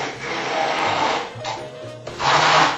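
A blender mixes a thick, smoky, spicy sauce meant for sweet potatoes and salmon, a loud, steady whir that breaks off in short pauses and restarts near the end.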